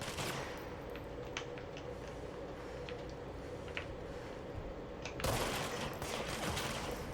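Rapid gunfire from the Control video game rattles in quick bursts of sharp shots at a moderate, slightly distant level. A louder, denser wash of noise arrives near the end, and no one speaks.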